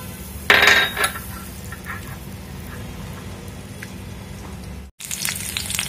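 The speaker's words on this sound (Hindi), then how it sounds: "ऑयल मैंने डाल दिया है, अब मेरा ऑयल जो है गर्म हो गया है। अब मैं डालूंगी इसमें गार्लिक" Garlic hitting hot oil in a wok gives a sudden loud burst of sizzle that settles into a steady crackling fry, with a brief dropout before the sizzle returns strongly.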